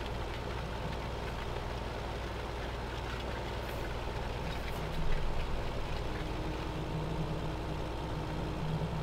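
A Deutz tractor engine in Farming Simulator 2015 runs with a steady low rumble and a faint knocking throb, holding constant throughout with one slight swell partway.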